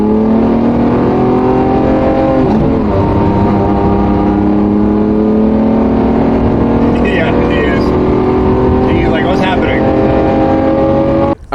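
Lamborghini Aventador SVJ engine running on a cold night, with a steady, loud, droning note that climbs gradually in pitch as the revs build, heard under people talking nearby.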